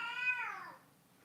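A pet cat gives a single short, clear meow nearby that quickly fades away.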